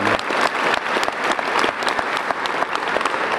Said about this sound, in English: That's worth clapping for.